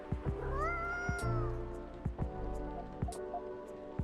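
A cat in the video game Coffee Talk 2 meows several times in close, clear rising and falling calls over a steady soft background hum, with small clicks and taps between them.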